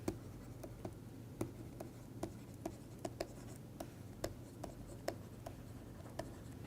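Chalk or a marker taps and scratches on a board in short, irregular strokes while a plot of protein hydrophobicity is drawn. The strokes sound faint and close, with quiet room tone in the background.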